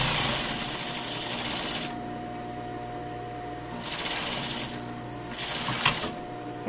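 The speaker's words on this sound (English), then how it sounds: "I'm going to do my front seam of the sleeve." Sewing machine stitching the front seam of a tailored sleeve with vent and lining, whirring in bursts with pauses between runs, close and fairly loud, no talking.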